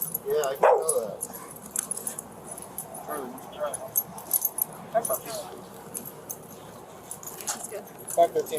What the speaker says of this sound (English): dog, sensing the distress, leaped out of the car, barking and clearly agitated.